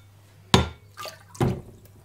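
A sharpening stone, used on VG10 steel, dipped back into its water bath: two splashy, sloshing bursts about a second apart, close and fairly quiet, with no talk.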